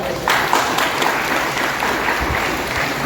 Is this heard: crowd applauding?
yes